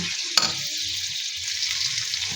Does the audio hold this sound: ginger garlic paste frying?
yes